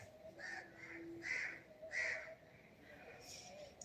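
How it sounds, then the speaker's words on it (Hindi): Crows cawing repeatedly among many trees outdoors, a few clear calls at moderate distance with faint background noise. "यहाँ पे इतने सारे पेड़ पौधे हैं, दिन भर वो अलग अलग तरह की चिड़िया घूमते रहती है।"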